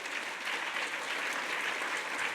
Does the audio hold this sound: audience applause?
yes